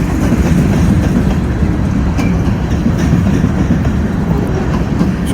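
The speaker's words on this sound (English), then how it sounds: "Hope somebody counted the cars in this train" A long freight train rolls past close by, with a loud, steady rumble and clatter of wheels that never lets up.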